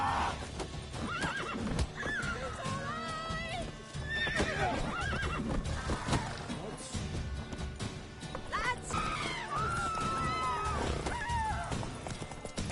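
In The Witcher 3: Wild Hunt on PS5, a horse whinnies several times over clip-clopping hooves, with crashes and voices mixed into the busy game sound.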